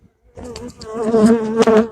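A close, steady drone of honeybees buzzing around a hive, several wings humming together with slight swells in pitch and loudness.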